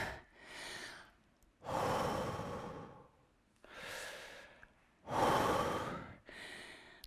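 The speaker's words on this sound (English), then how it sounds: "let's take some big deep breaths" Deep, slow breathing during a lower-body workout, with four or five strong inhales and exhales alternating at close range, loud and clear with no talking.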